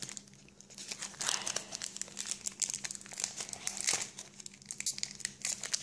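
A Pokémon ex Crystal Guardians booster pack wrapper is torn and crinkled open close by, a series of sharp foil rips and crackly rustles coming in irregular bursts, with no talking.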